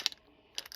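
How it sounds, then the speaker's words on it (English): Small metal washers shaken in a container with oil, giving two brief clusters of faint metallic clinks separated by a short pause. "So what I'll do is give everything a good shaking"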